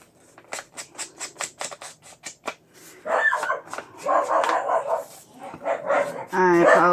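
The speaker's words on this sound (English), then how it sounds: "I have no idea what they're barking at." Several dogs barking in a rapid run of sharp, evenly spaced barks, then more scattered yips and barks mixed with someone talking indoors in a papercraft setting.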